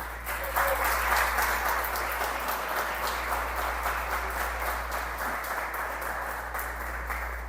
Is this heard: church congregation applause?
yes